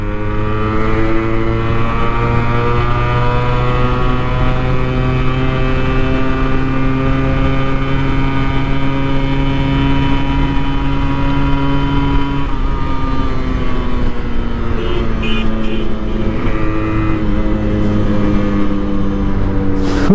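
A 26-year-old Yamaha RX 100 motorcycle is ridden in top gear on an open road. Its engine gives a loud, steady, continuous drone throughout, with the pitch shifting slightly toward the end.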